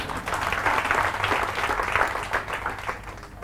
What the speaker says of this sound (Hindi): तो इनके लिए तालियां बजाओ एक बार।